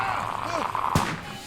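A single sharp gunshot cracks out in The Walking Dead video game, one loud broadband burst near the end of tense spoken dialogue, with a brief ringing tail.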